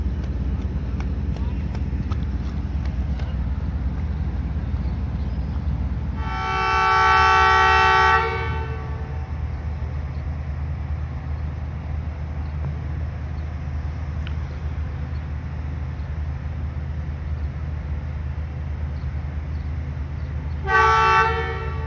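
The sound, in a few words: train moving off from Samdyal railway station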